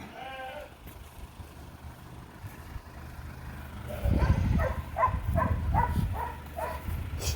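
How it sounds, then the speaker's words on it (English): Ewe lambs bleating, a few calls near the start then a rapid chorus of repeated overlapping bleats close by over a low outdoor rumble. "these are all ewe lambs."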